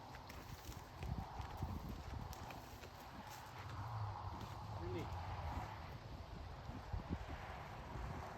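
A horse's hooves clip-clop in a steady walking rhythm during a riding evaluation outdoors, heard close with wind noise while a person talks over it.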